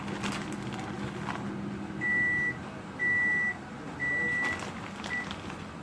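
Oven beeping as a cheese-topped chicken qeema and sweetcorn pasta dish goes in: three long steady electronic tones about a second apart, then a short fourth one, over quiet kitchen background.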